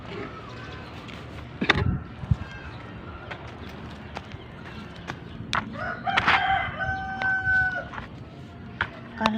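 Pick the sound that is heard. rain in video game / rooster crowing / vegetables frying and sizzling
rooster crowing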